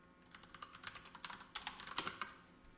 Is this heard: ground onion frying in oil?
no